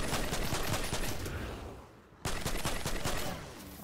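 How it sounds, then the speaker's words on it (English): Primal Rifle gunfire in Fortnite Save the World, heard as a rapid stream of shots that thins out and briefly stops about halfway through, then resumes with a sharp crack and keeps going. "I must have shot him."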